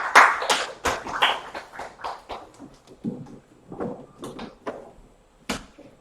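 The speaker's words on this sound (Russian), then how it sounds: "Давайте похлопаем." Audience applause at a school award ceremony for the 2018-2019 Digital School project: a burst of claps that thins into scattered, sparser claps over several seconds, with no talking.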